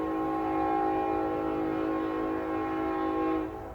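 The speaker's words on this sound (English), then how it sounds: "the occasional train tracks that you hear in the background" A train sounds a sustained horn close by for about three and a half seconds as it runs on nearby tracks, holding a steady tone before cutting off at the end.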